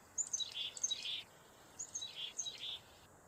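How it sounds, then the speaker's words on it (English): Carolina chickadee, a small songbird, giving two bursts of high, thin, whistled call notes, faint and fairly close, with quiet background between phrases. "Carolina chickadee is cute small songbird. Chickadee song is very beautiful."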